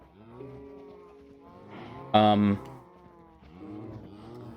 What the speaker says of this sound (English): what are we gonna do about our cows?